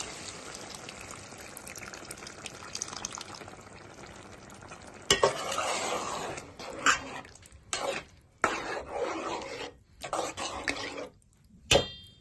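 Tamarind juice poured into a simmering Telugu egg and ridge gourd curry and stirred, starting with a low steady bubble, then a sudden splash and loud bursts of wet stirring and scraping separated by brief pauses.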